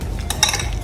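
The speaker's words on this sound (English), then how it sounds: "Keep mixing." Utensil mixing avocado sandwich filling in a bowl, with a few soft clinks and scrapes over roughly a second, close and fairly quiet.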